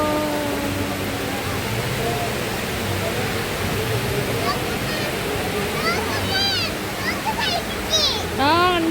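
Water splashing steadily near the Burj Khalifa in Dubai, a continuous rushing spray like a fountain heard up close, with children's and adults' voices talking over it and bright chirpy sounds toward the end.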